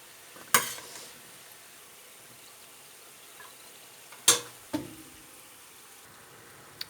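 Lokma dough balls fry quietly in oil under a soft continuous sizzle, with a few sharp clinks and taps from utensils scattered across the stretch and no talking.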